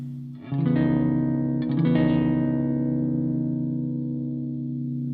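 A low, thick Bass VI note on the middle pickup with the strangle switch engaged rings out, struck again after a moment, sustaining with a slightly processed, effected tone and no voices.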